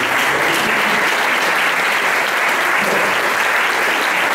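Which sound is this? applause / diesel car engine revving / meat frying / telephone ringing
applause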